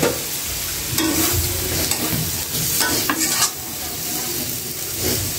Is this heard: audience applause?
no